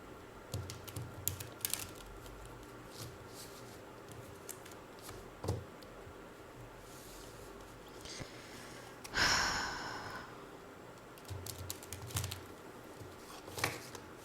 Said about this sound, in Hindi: सबसे पहले हम कार्ड्स को शफ़ल कर लेते हैं।